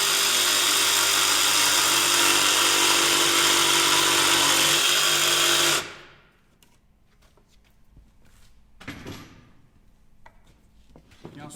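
A jigsaw cuts through an interior wooden rafter, buzzing loudly and steadily for about six seconds before it stops abruptly, followed by quieter handling noises and faint rustling.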